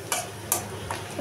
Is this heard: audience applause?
no